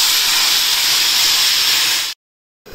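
Red tomatoes hitting a hot pan of cooked onions give a loud, steady sizzle that hisses continuously for about two seconds, then cuts off into silence before resuming faintly.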